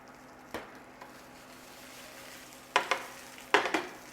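Broccoli fries in hot oil in a pan, a soft continuous sizzle broken by a few sharp clattering stirs and tosses, with clusters of louder scraping near the end.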